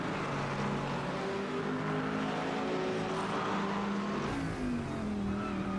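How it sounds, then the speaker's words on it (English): A Lamborghini GT3 race car at the Zolder 24 Hours roars continuously at full volume, its engine note climbing and shifting through gears, with no pauses. "It's just an awesome sound that Lamborghini makes."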